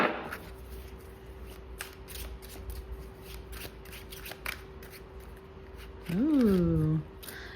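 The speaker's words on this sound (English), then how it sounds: "I'm gonna just do one more shuffle." Tarot cards are shuffled in quick, soft riffling flicks close to the ear, with a steady hum underneath and a short melodic tone near the end.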